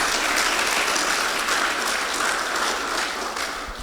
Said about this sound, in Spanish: Dele otro fuerte aplauso al Señor.